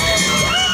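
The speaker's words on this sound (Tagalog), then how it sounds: "Pumalakpak ang mga nanditong supporters ng St. Tony's." Supporters of a college team cheer and shout at a lantern parade in Tabuk City, Kalinga, a dense, loud crowd roar with children's shrieks and whoops throughout.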